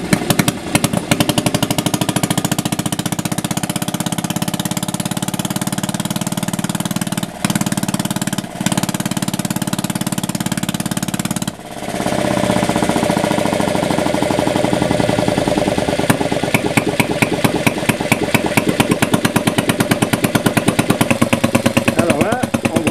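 A Conord F1 single-cylinder engine runs steadily and loudly up close, its rapid mechanical chatter holding on under braking as the regulator compensates, dipping briefly midway before resuming with a sharper, faster ticking rhythm.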